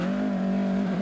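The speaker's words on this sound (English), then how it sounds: "trying exceptionally hard with the Group B Opel Manta 400" A Group B Opel Manta 400 rally car at the 1989 Qatar International Rally holds a loud, steady, strained engine drone that rises slightly in pitch, close and continuous.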